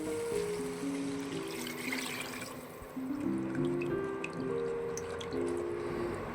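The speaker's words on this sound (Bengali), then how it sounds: "তো আমি এবার একটু জল দিয়ে দেবো এটার মধ্যে।" Water pouring into a vegetable bottle-gourd kofta curry gravy in a pan, a faint, steady trickle and splash with dripping, heard close and alone without voices.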